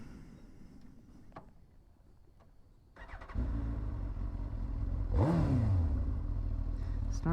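A 2006 Suzuki GSX-R1000 motorcycle engine cranks and catches, then settles into a loud, steady idle close by, with a brief rising rev partway through.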